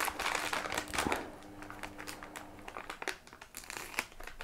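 A Warhammer 40K Legends magazine package is unwrapped up close, plastic wrapping crinkling and crackling in a steady run of quick rustles with occasional sharper tearing bursts.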